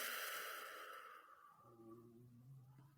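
A deep, slow exhaling breath, close and soft, tapering off gradually over a few seconds with no talking.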